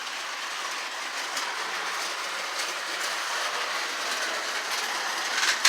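Model train rolling along a home layout's track with short straights, a steady, continuous rumble and clatter at close range for several seconds, ending in a brief louder knock.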